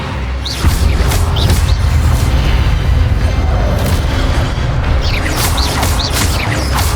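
Spell blasts are cast in the Hogwarts Legacy video game, giving a loud, continuous stretch of booming magical bursts and whooshes with rumbling impacts throughout.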